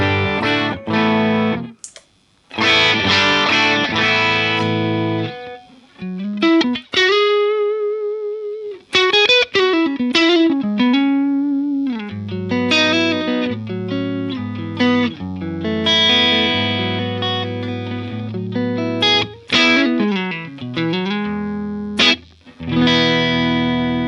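Electric guitar played through a Helix Marshall Plexi amp model at a cleanish setting, loud strummed chords and single-note runs ringing out with sustained notes and brief pauses, no voices.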